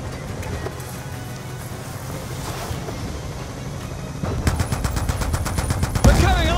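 Mounted machine guns on gunboats chasing a barge across open water in Call of Duty Black Ops 2 open up in rapid, loud bursts over a steady rush of boat engines and waves, with heavier firing building toward the end.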